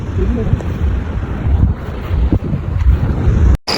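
Steady wind buffets the microphone in a constant low roar at a dam while fishing, with faint water and boat noise underneath and a brief dropout near the end.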